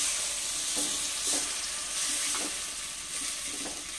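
Chilli powder, turmeric, sugar and a little water sizzle in a hot pan, a steady close frying hiss broken by soft, regularly spaced stirring scrapes, with no one speaking.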